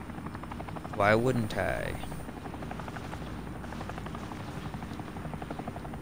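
Helicopter rotor drone in a battle royale video game, a steady low thrum running throughout while a voice speaks briefly near the start.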